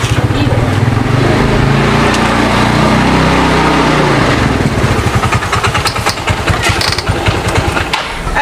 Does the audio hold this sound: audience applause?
no